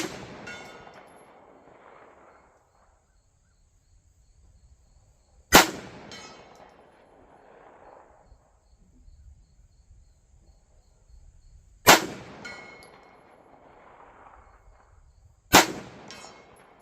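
Three sharp Staccato pistol shots ring out at a few-second intervals, each a crisp loud crack with a brief decaying echo, aimed at a steel target 100 yards away, with quiet stretches between them.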